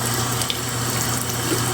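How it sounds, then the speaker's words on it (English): Warm tap water runs steadily into a sink for rinsing makeup brushes, a constant close hiss with no voices. "So I always use warm water, not too hot, not too cold."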